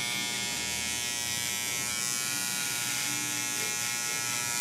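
Electric hair clippers buzz steadily and close up, trimming stubble during a barbershop fade haircut, a constant whining drone with no breaks and no voices.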